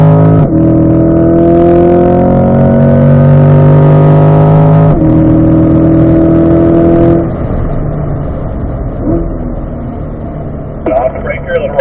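A race car engine holds steady harmonic drones through a corner, with a downshift and then revving up again onto a short straight at a racing school session, loud and close, while an instructor talks over it.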